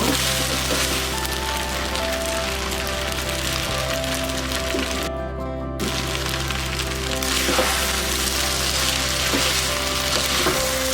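Eggs sizzle and fry in a pan with chicken vegetable fried rice, giving a loud, steady crackling hiss that runs for several seconds with a brief dip in the middle.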